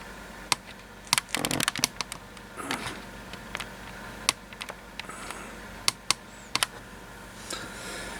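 Someone types a command on a computer keyboard, producing sparse, crisp key clicks with a quick flurry early on and then scattered single taps and short pairs, fairly close and alone.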